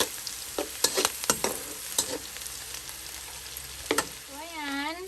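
Garlic sautés in butter and a little oil with a steady close sizzle, broken by sharp clicks and scrapes of stirring, and a rising electronic chirp near the end.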